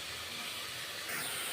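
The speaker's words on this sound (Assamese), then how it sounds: "এতিয়া শাকখিনি অলপ সময় ভালকৈ ভাজি লওঁ" Saag greens sizzling in a frying pan, a steady close hiss that grows slightly louder for the last half second, with no voices.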